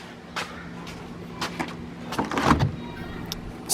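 Nissan 240SX trunk opened by hand in hot weather: a few short clunks and latch clicks, then a louder cluster of rattles and thumps near the middle, close and fairly crisp.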